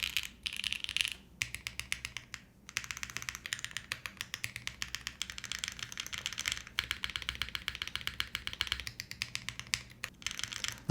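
Rapid, crisp clacking of a custom-built mechanical keyboard with MTNU keycaps being typed on, steady bursts of keystrokes with brief pauses, close and clear.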